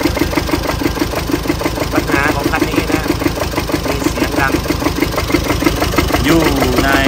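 Chevrolet Colorado Z71 pickup engine running with a steady repetitive knocking tick, loud and close throughout, with a faint voice briefly under the noise.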